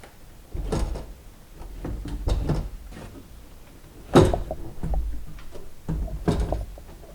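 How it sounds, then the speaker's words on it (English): A run of plastic clicks, pops and scraping thuds as a Kia Soul's rear door trim panel is pried loose, with one sharp louder snap midway; close and alone, no talking. "take the door panel off"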